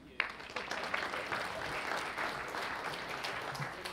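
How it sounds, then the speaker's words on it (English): Applause from an audience at a CES tech event, a broad, even wash of many hands clapping continuously for several seconds, moderately distant in the hall. "please, another round of applause for Carrie and Robin for producing Last Gadg"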